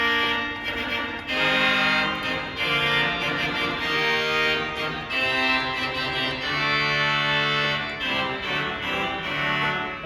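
Big trumpet reed stop on a huge 1922 Skinner/1950 Moller pipe organ, sustained brassy chords held loud and continuous with shifting harmony, full and close throughout.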